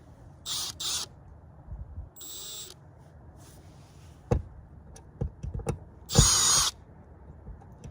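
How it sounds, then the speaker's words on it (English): A power drill with a bigger bit whirs in several short bursts while installing a MaxxAir fan in a Ram Promaster van, the last one longest and loudest, with clicks and knocks of handling between runs. "Just using a bigger drill bit."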